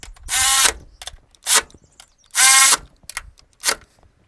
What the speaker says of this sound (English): we put the bolt, 12mm bolt, the 12mm nut, and tighten them all